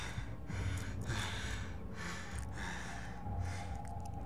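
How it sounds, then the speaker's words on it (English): Heavy, rhythmic panting from a player character in the horror game Amnesia, repeated breaths in close succession, loud and up front with no talking. "doing the panting for you"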